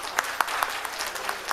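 Audience applause at an annual cultural program of Udichi in New York, with a steady mass of clapping and a few sharper individual claps standing out, moderately close, no talk.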